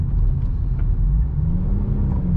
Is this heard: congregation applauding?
no